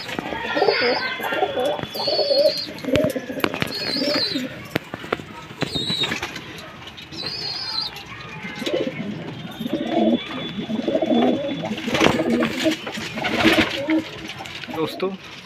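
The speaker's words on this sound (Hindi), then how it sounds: "ये देखिए सारे कबूतर हमारे अंदर आ गए हैं।" Pigeons coo and murmur throughout, with occasional wing flaps and a person talking over the birds at close range.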